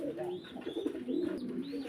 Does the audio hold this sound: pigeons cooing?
yes